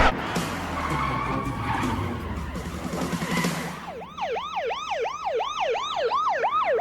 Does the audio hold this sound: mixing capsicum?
no